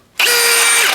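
Milwaukee M18 Fuel Gen 4 cordless brushless hammer drill spinning up briefly, a loud, close, steady high whine starting abruptly and lasting under a second.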